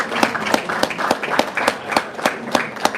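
Scattered audience applause at a congressman's service academy nominee reception, a handful of distinct claps spaced out in a loose, uneven rhythm, moderately close, with no talking over it.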